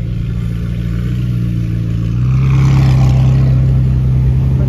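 A Novitec-tuned McLaren 720S gives a steady, deep engine drone that swells louder about halfway through and holds there, close by, with no talking.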